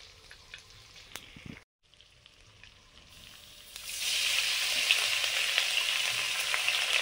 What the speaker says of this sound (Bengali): সর্ষের তেল, শাক ভাজা করব।